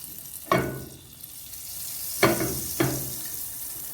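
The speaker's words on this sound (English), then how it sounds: "I'm gonna preheat the pot and add a piece of butter, melt it" Butter melting in a preheated cooking pot gives a soft, steady sizzling hiss, broken by three sharp pops or clicks spaced a second or two apart.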